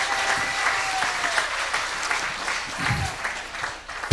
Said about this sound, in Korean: 이것도 박수를 좀 쳐줘봐요.